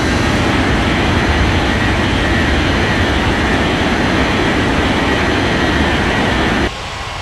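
An aircraft taxiing in an air traffic control game, heard as a loud, steady jet engine roar with a deep rumble that holds constant and drops slightly at the end, no talk.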